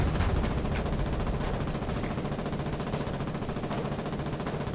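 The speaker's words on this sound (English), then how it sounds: "Ah, that's a lot of bullets." Heavy automatic gunfire from a Logi video game rattles on continuously, a dense, loud barrage of rapid shots with no gaps, many weapons firing at once for the whole stretch.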